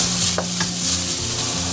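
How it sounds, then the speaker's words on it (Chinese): Minced garlic hits hot oil in a wok and sizzles steadily up close, with a couple of brief scrapes of stirring and no voices. "喷入少许油，我们先下入蒜末给它爆香"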